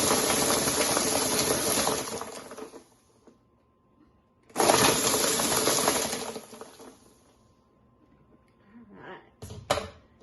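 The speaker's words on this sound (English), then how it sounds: "And blend it up." A small home blender whirs loudly while blending iced coffee, two long grinding bursts of roughly three seconds each, separated by a silent pause and followed by brief clattering knocks.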